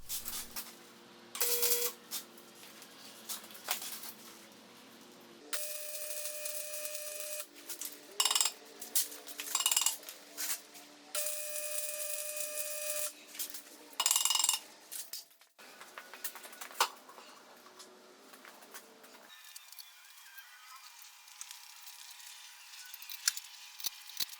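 Welding in a home workshop on a custom adjustable vise stand, with an adjustable light stand as an aid: several crackling, buzzing bursts lasting a few seconds each, separated by short pauses, close and fairly loud, with no talk.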